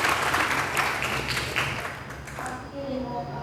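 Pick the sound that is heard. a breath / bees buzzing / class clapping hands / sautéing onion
class clapping hands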